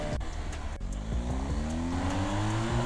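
An RB200 motorcycle engine in a Brazilian motocross-style mobile game revs and rises steadily in pitch, with tire squeal mixed in, loud and continuous throughout.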